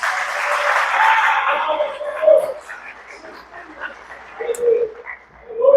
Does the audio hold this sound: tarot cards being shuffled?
no